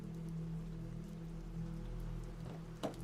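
Steady rain pouring down outside a roadside diner, a continuous close hiss of drops on surfaces, with a brief sharper patter or splash near the end.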